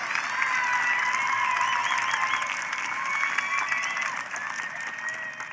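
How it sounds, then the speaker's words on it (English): A crowd at a high school graduation applauds steadily, a dense wash of clapping that continues for several seconds and slowly fades a little toward the end. "Let's give a round of applause to our students"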